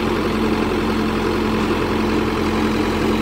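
Solis Yanmar 5724 diesel tractor engine running steadily at a constant idle-like speed, a continuous low, droning hum with a strong steady tone, loud and close with no talk.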